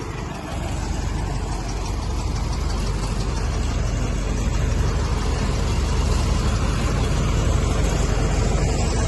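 A Massey Ferguson 35 tractor runs at a sale, its engine a steady low rumbling idle with a fast regular beat, close and constant throughout after a brief quieter start, with no talking.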